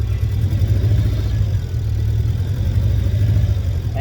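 A turbocharged Mazda Miata engine runs at a steady, loud rumble with a slight rev, sounding uneven as if not firing on all cylinders, with no voices over it.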